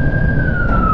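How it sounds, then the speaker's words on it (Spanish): A loud, steady ambulance siren wails close by over road rumble, its pitch sliding slightly downward. "Qué pena esa ambulancia."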